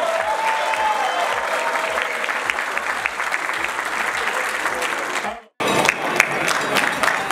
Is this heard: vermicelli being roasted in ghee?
no